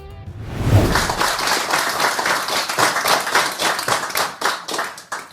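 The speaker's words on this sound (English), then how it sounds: "who's clapping in this?" Applause from a small group, dense rapid hand clapping that swells quickly and holds steady before tapering slightly, loud and close with no voices over it.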